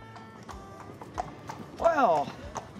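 Horse hooves clip-clop in a steady walking rhythm on a hard surface in coastal Zeeland, near and clear, with a brief whinny midway and people talking over the hoofbeats.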